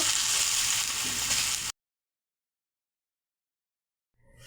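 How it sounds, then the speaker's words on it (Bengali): Chopped potato shreds frying in hot oil, a bright steady sizzle for under two seconds before cutting to silence, then faint sizzling returning at the end. "সব কটা আলু কুচি আমি এভাবে ভেজে নেব।"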